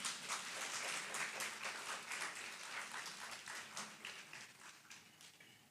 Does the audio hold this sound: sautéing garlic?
no